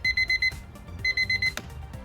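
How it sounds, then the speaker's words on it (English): A Braun travel alarm clock from 1971, designed by Dieter Rams, rings with clipped electronic beeps in quick groups of four, each group followed by a short gap, loud and close with no voices. "Don't snooze on our next timely gift, the Braun Travel Alarm Clock."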